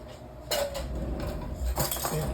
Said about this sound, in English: Now let me get my trusty chopstick so I can do like Bob Marley said, stir it up.